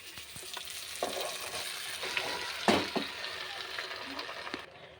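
Washed sorrel leaves (chukkakura) drop into a hot frying pan with soya, crackling and sizzling steadily, with a few sharper spits and stirring clatters close by.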